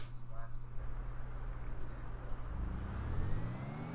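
A hybrid car's engine in GTA Online drones steadily and rises in pitch as it accelerates, with someone talking over it throughout.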